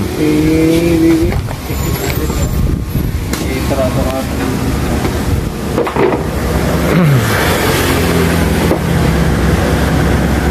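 A Yamaha Mio i 125 scooter with a fuel-pump fault and error code 24 runs continuously up close, its engine note surging unevenly as it misfires, while someone talks over it.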